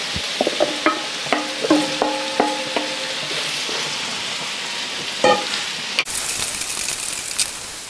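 Apples frying in melted butter in a pan give a steady sizzle, punctuated by a string of distinct clinks and scrapes from stirring, with a louder burst of hiss near the end.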